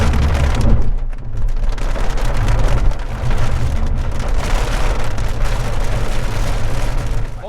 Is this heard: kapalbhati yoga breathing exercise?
no